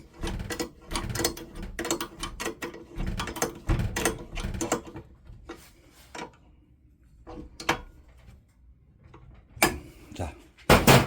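Metal ratcheting and clicking of a 13mm spanner tightening the mold on a peanut bread machine, a quick burst of turns followed by a pause, then a few more close clanks near the end.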